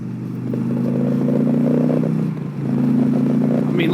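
A V-twin motorcycle engine runs close by with a steady, throbbing low drone that dips briefly midway, then swells again as it revs.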